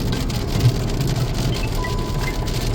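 Rain falling on the road during a drive, a continuous even hiss of drops over a low car engine rumble, with no talking.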